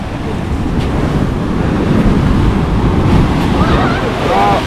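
Large waves crash and roll onto the shore on a drizzly, rough-sea day, the surf roaring continuously and close with gusts of wind buffeting the microphone.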